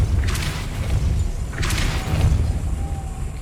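Spinning mechanism hit by the Depulso spell in Hogwarts Legacy, two whooshing bursts with low rumbling thuds beneath, fairly loud and close.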